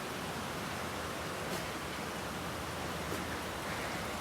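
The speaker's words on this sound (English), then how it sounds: "I've never been outside when it's like raining like this." Heavy rain pours down outdoors in a steady, dense hiss that stays even and unbroken throughout, with no voices.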